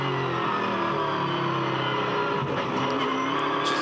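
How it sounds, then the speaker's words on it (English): A Supercars V8 race car at the 2011 Adelaide 500 holds a steady, loud engine drone through a corner on trailed throttle, with faint tire noise. "Just hear the patience with the throttle then for Mark."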